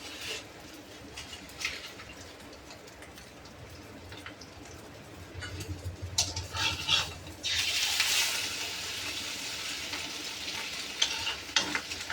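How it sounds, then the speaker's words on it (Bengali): Eggs fry in a pan with a steady crackling sizzle, now and then stirred or scraped. The sizzle swells louder midway and carries on at close range, with no talking. "এই যে বন্ধুরা আমার ডিম ভাজা হয়ে গেছে"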